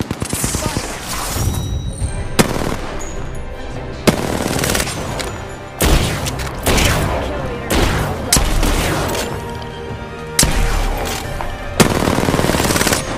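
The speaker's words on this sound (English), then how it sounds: "Opening fire on the enemy. I am taking fire" Sustained automatic gunfire from the Apex Legends video game, loud and dense, with bursts broken by brief pauses and sharp impacts over a continuous battle din.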